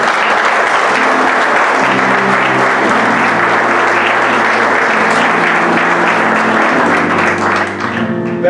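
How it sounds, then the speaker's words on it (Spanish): Church congregation applauding during a sermon, loud continuous clapping with sustained organ or keyboard chords underneath, easing slightly at the end. "Dale un aplauso al Señor."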